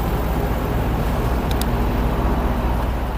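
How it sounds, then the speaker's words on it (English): Steady rush-hour road traffic along the Florida coast, a continuous broadband roar of passing cars and engines at moderate distance, unbroken for the whole stretch with no voices. "as you can hear, there's a fair amount of traffic"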